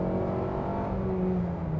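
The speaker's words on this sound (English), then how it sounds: "So that's the noise I was talking about with that continuously variable transmission." Steady SUV engine drone at constant high revs with a smooth whirring tone of a continuously variable transmission holding its pitch.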